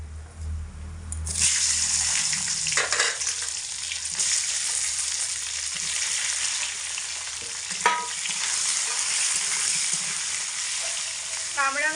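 Cut star fruit fries in a hot pan of spiced oil, a loud continuous sizzle with occasional spoon scrapes as it is stirred, and a brief clatter at the very end.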